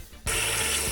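Tap water suddenly gushes on and runs steadily into a sink as perch fish are rinsed, a loud, close, continuous splashing after a brief quiet start.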